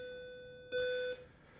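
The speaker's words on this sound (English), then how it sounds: "That's the bell ring." An electronic school bell or chime rings once in a 7th grade classroom, a steady sustained tone lasting under half a second, clear over quiet room ambience.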